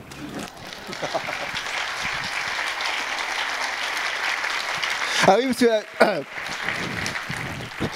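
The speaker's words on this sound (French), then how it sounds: "ça applaudit moins quand même" A festival crowd at the Amen-Toi 2019 Christian gathering applauds in a steady, dense wash of clapping that runs throughout, with a voice briefly talking over it near the end.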